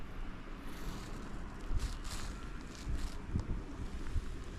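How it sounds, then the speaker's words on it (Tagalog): Strong wind gusts roar and buffet the microphone during a Canadian snowfall, with rising and falling blasts over a constant rushing background. "Grabe ang hangin"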